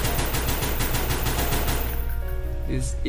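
Rapid automatic gunfire in a video game, with shots passing through a prop that has no collision. Loud, fast, steady bursts run for about two seconds, then fade to quieter mechanical tones.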